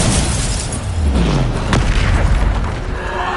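The Bombarda explosion spell blasts in Hogwarts Legacy, a loud booming detonation with a sustained roaring rumble, a sharp crack partway through and a dense debris-like wash after.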